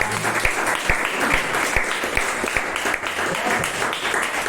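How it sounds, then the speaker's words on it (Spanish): A church congregation breaks into loud, sustained applause, a dense wash of clapping from many hands that carries on steadily with no voices on top. "Déjame un fuerte aplauso por los hermanos que han respondido."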